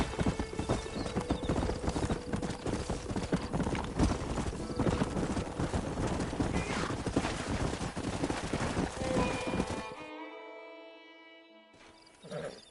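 Horses in Red Dead Redemption gallop with dense, rapid hoofbeats and a whinny over a busy mix, then the hooves cut out abruptly near the end, leaving a fading tonal ring before a brief final burst.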